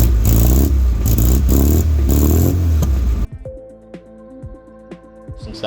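A Mini car engine fitted with a new 2-inch exhaust and silencer revs loudly in several deep, rasping bursts, then cuts back to a lumpy idle with sharp pops and rattles.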